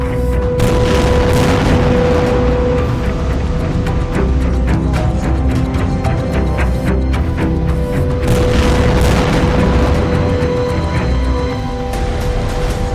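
Heavy explosions from Israeli strikes on Hamas and Hezbollah fighters in the Gaza Strip, West Bank and Lebanon border area, in news footage: loud, dense booms and blasts that rumble continuously throughout without a break.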